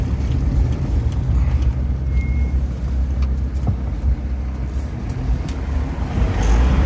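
Steady low rumble of a car driving along at moderate speed, with faint passing traffic noise in the background.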